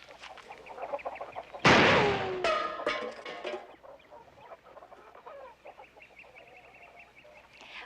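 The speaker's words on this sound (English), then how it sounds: "We didn't know there was chickens in there." Chickens clucking in an old western farm setting, scattered soft clucks broken by a sudden loud sharp burst and a run of agitated squawks that then settle back to quieter clucking.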